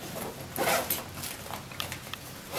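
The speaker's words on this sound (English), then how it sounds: "when you unzip it here" Expansion zipper on a Tortuga Air or Osprey Farpoint 40 carry-on travel backpack being unzipped, a close, scratchy rasp in several quick pulls over a couple of seconds.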